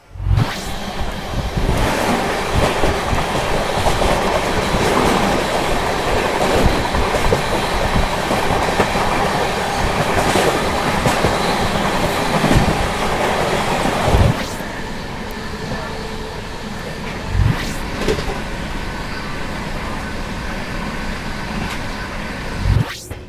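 The Jayanti Janata Express passenger train rumbles steadily along the tracks, loud and close, with periodic clacks from the wheels over rail joints and a slight drop in intensity midway.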